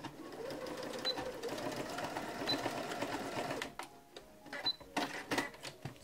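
A sewing machine stitches down the elastic of a hybrid fitted diaper made of fabric and hidden fleece: a steady close mechanical whir for several seconds, then a few short bursts with clicks, quiet overall, with no talk.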